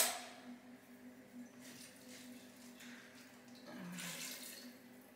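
Water poured into a vegan spirulina burger preparation, a steady soft splashing stream running for several seconds with a brief louder surge near the end, close and fairly quiet.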